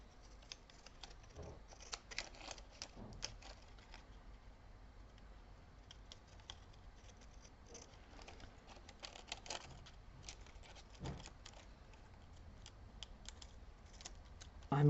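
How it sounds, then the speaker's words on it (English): Scissors cut through a printed paper booklet, giving a steady run of soft snips and crisp paper rustles, close and fairly quiet, across the whole stretch. "Let's cut it with a scissor."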